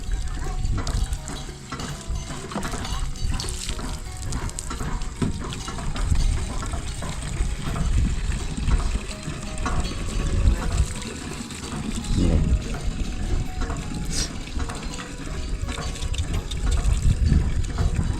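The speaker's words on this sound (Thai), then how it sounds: "อันนี้คือห้วยเซน้อยทุกคน ไหลผ่ากลางหมู่บ้านนี่แหละห้วยเซน้อย" Huai Se Noi stream flowing through the middle of a village, a continuous rushing and trickling of water close by, with voices talking faintly over it.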